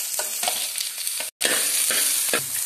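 Dried red chillies, onion, green chilli and ginger sauté in a pan for a Kerala-style ladies finger curry: a steady close sizzle with scraping stirs and one brief silent break midway.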